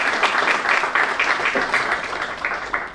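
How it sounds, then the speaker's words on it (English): A round of applause for a chief guest at an official ceremony, many hands clapping in a steady, dense wash that carries on without a break, with a faint voice underneath. "Please give him a big round of applause."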